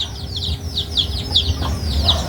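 Pet chickens cluck and chirp at feeding time, a quick run of short, fairly close calls in a steady rhythm over a low background rumble.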